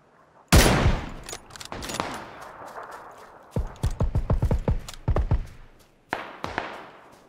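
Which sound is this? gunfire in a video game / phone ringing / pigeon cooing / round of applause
gunfire in a video game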